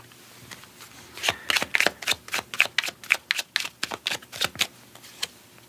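Divine Doorway oracle cards are shuffled in a rapid run of crisp, riffling flutters and slaps, close and fairly loud, with no talking over them.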